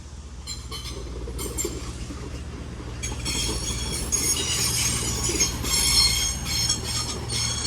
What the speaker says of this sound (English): And that 331's departing